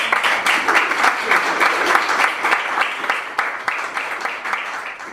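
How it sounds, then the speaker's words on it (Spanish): Audience applause breaks out to welcome a speaker at a panel discussion on improvisation in the performing arts, a dense sustained clapping from a full room that holds steady for several seconds before starting to thin out. "Por favor, recibamos con un aplauso"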